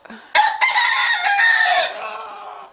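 A rooster crows loudly and close inside a backyard coop housing about two dozen hens, one drawn-out call after a brief cluck.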